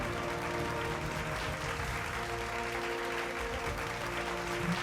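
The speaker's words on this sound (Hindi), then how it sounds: "पकड़िए सर, वाह, जोरदार तालियां।" An audience at the Zee Media Bhojpuri awards ceremony applauds, a steady wash of clapping over background music and hall noise that holds at an even level throughout, at moderate volume from a distance.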